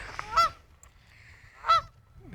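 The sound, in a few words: goose honking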